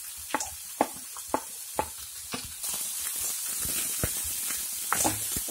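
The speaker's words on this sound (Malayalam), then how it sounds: "ഇതിന്റെ കൂടെ തന്നെ വെളുത്തുള്ളിയും പച്ചമുളകും ഇട്ട് കൊടുക്കാം" Onions, garlic and green chillies fry in a pan with a steady sizzle, punctuated by several sharp stirring scrapes and clinks, close and fairly quiet.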